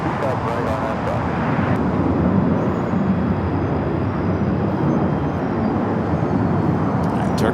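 A FedEx heavy jet taking off at night on runway 25 right at Los Angeles International Airport, a continuous broad roar of jet engines rising at first and then holding steady and loud.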